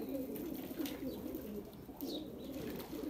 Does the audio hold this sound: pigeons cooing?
yes